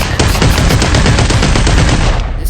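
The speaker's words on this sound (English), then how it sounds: "the M60 is faster. It's faster fire rate, kind of. Like it starts up faster." Sustained rapid automatic fire from an M60 machine gun in the VR shooter Population One, a loud, dense stream of shots with no break.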